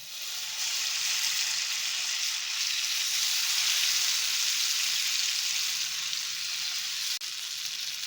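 Fish frying in a pan gives a steady, loud broadband sizzle that holds evenly for the whole stretch, with only a brief dip near the end and no voices.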